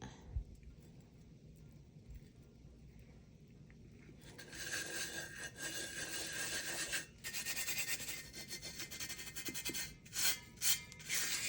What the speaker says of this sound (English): our glitter has been rubbed all into our tumbler